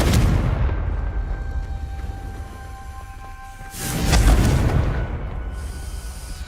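A Confringo fire spell explodes in Hogwarts Legacy: a rumbling low boom mid-clip rising out of a steady droning background with a faint tone, then settling back into ambience.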